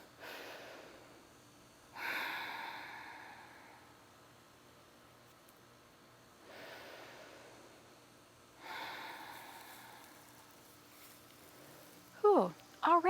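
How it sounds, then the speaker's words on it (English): Slow, deep breaths drawn in and let out during a group breathing exercise, several long airy swells separated by quiet pauses, close and fairly soft, ending in a few sharp sounds. "we're gonna breathe in for 4"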